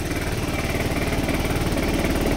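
A motorcycle engine, started after stalling out, runs steadily at a rough, throbbing idle, loud and close throughout with no speech over it.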